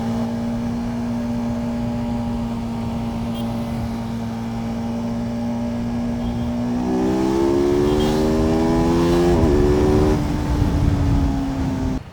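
A BMW M1000 RR motorcycle's engine holding a steady idle, then revving up in rising bursts before settling, loud and close on a street with traffic noise around.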